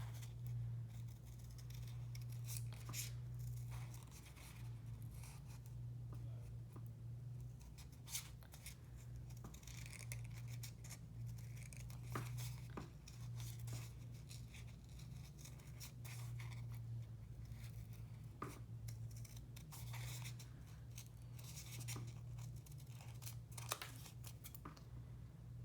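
Scissors cutting around paper flower petals for a sunflower-themed journal, faint close snips and crisp paper rustles scattered steadily over a low background hum, no talking.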